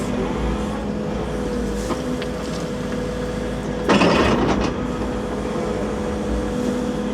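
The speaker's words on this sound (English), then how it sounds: "Push some of that off with the dozer" A bulldozer pushing rocks at a trout pond site, its engine droning steadily with a brief louder burst of scraping and rumbling midway.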